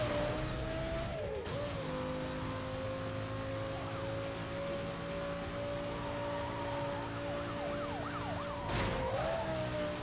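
Amid a Need for Speed: Most Wanted street race, a loud car engine drones steadily with gear-shift dips while a faint wailing tone runs above it.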